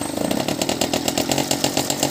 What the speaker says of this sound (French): Allez, démarrage de la mobilette, comme dit ma femme, à l'ancienne.